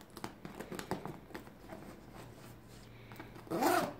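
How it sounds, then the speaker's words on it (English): A zipper on the back of a women's top-handle satchel handbag is worked by hand, with soft handling rustles and taps first, then a short quick zip near the end. "and then the zipper on the back as well."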